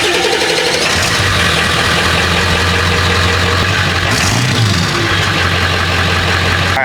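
A 1997 Ford 7.3L Powerstroke diesel engine runs loud and close with a steady rumbling idle and a brief rise in revs midway, with no voices.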